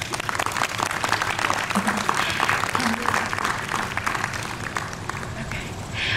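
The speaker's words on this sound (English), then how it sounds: "Everybody give her a big round of applause" An audience gives a round of applause at an event on Osage history and culture, dense crowd clapping filling the whole stretch, with a few faint voices mixed in beneath it.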